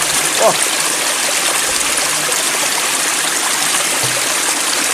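A small mountain waterfall in the Polar Urals trickles steadily into a bottle, a constant close rush of water, with faint voices nearby.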